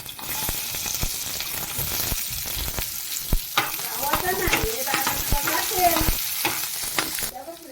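Garlic, chilli and onion fry in a hot pan for a prawn chilli dish, giving a steady loud sizzle broken by repeated scraping stirs and clicks of a utensil against the pan, with no talking.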